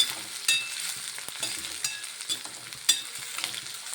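Ginger fries with beef liver in a pan, a light close sizzle broken by repeated scraping and tapping strokes of a spoon as it is stirred, with no talking.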